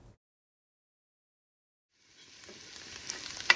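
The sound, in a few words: onions frying in a pan for egg curry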